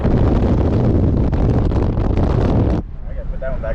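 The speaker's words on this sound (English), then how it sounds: "Oh, it's so windy." Strong wind on a mountain at about two miles of altitude roars and buffets the microphone in a loud, continuous rush, then drops off abruptly near the end as a voice speaks faintly.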